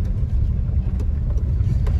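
A steady low engine rumble of a car driving nearby, continuous and fairly loud, with no voices.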